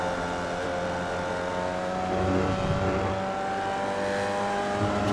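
A Formula Vee race car engine in the iRacing sim accelerates steadily, a loud, continuous buzzing drone with clear harmonic lines that rise slightly in pitch over five seconds.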